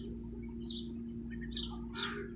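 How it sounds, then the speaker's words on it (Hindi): Pet parrots kept in a village house give a few short, bright chirps at scattered moments over a steady low hum, fairly close by. "और ये देखें ये 7 तोते रखे हुए हैं, बहुत ही प्यारे हैं।"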